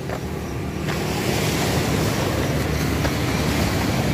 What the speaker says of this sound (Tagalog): ang ingay ng alon, ano?